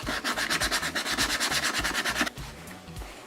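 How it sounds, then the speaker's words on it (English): Steady rhythmic scraping of sandpaper rubbing back and forth across soft EVA foam, close up, with quick repeated strokes before slowing and quieting near the end. "When I'm sanding with sandpaper"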